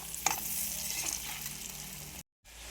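Potatoes fry on low heat, a soft even sizzle with a brief stir near the start, cutting off to silence just before the end.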